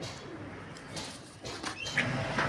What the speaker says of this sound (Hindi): ये तमाम मिक्स ब्रीड है, फैंसी हैं, कुछ मिले जुले कबूतर हैं